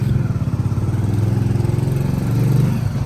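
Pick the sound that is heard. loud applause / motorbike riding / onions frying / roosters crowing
motorbike riding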